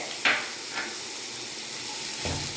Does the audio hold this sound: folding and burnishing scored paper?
no